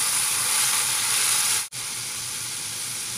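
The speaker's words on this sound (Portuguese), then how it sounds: "E vou refogar 3 dentes de alho e uma cebola pequena que eu triturei juntos. Vou deixar fritar bem." Crushed garlic cloves and a small onion fry in a pan, giving a loud, steady sizzle that cuts out for an instant before resuming.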